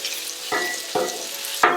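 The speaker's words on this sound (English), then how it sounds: "We're now going to get this fantastic sliced sirloin straight onto the grill." Thin-sliced sirloin steak sears on a Blackstone griddle, a steady close sizzle broken by three sharp scraping spatula strokes as the meat is spread out.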